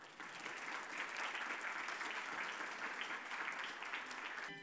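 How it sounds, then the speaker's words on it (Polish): Sustained applause rolls through a ceremony hall at the Patria Nostra historical contest awards in Mazovia, a steady, even wash of many hands clapping, faint and distant, tapering at the very end. "Poproszę ogromne brawa."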